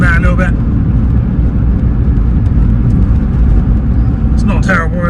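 Suzuki Swift VVTS GLX fitted with big aftermarket alloy wheels and low profile tyres, driving along with a loud, steady low road and engine rumble throughout; brief voices come in at the start and end.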